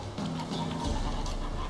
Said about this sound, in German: Hier sind Gänse.